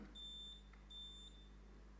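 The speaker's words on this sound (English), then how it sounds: "We want to test our buzzers. As you can see, you have some buzzers in front of you. So just ring them." Electronic quiz buzzers at a school quiz competition sound two faint, steady high-pitched beeps, each about half a second long, separated by a short gap.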